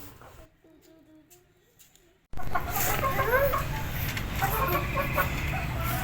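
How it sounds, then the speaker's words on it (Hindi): A hen clucks softly nearby over a steady noisy background, with a short quieter stretch at the start before the louder ambience kicks in. "डब्बू, ये हमारी डब्बू मुर्गी है जी, माशाल्लाह।"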